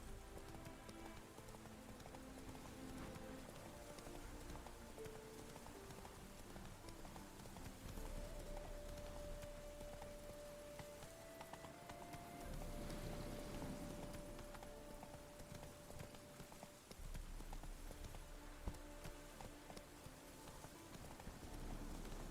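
A horse gallops in The Witcher 3: Hearts of Stone, its rhythmic hoofbeats running steadily under ambient game sound with a faint rain-like texture, continuous and fairly quiet throughout.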